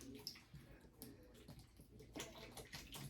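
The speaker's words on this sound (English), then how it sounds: "I'm just going to water her in" Water poured from a bottle onto soil in a small nursery pot, a continuous close splashing trickle with faint gurgling, running steadily for a few seconds.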